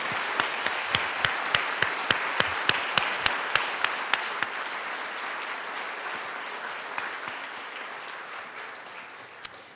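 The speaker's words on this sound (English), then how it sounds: "Another round of applause." A room full of people claps steadily in the Colorado House of Representatives chamber, with a few sharp standout claps early on, gradually thinning toward the end.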